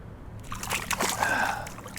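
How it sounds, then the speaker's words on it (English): A freshly caught trout thrashing at a culvert, a short burst of splashing and sloshing water up close that rises, churns briefly and subsides. "And they do not quit splashing"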